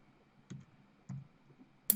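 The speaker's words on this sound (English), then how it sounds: "I think you're typing in the wrong area" Sparse, faint clicks of keys being typed on a computer keyboard, three or four separate taps spaced irregularly over a quiet background.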